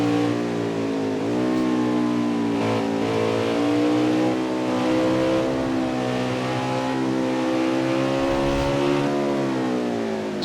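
Race car engines rev in a NASCAR Winston Cup video game, a loud continuous multi-engine drone with rising and falling pitch as cars run near a pit road.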